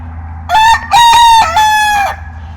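A rooster crows loudly and close by in three drawn-out bursts, with chickens clucking quietly underneath.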